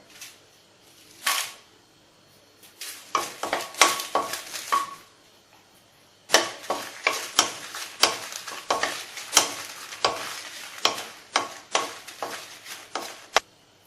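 Repeated dry scraping and rattling of chillies being stirred in a pan, in bursts with short pauses, close and moderately quiet.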